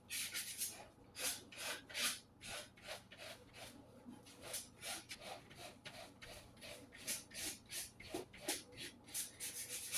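Sanding block or finger sander rubbing back and forth along the edge of a small wooden pumpkin cutout, ripping the fibres, in quick repeated rasping strokes, close and fairly quiet with no talk.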